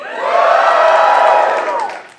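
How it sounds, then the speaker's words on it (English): A live podcast audience in a venue cheers and whoops loudly in one sustained swell that rises quickly, holds for about a second and a half, then fades away. "cheer now if you're ready to podcast."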